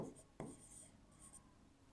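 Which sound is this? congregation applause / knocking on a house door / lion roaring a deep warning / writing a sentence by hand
writing a sentence by hand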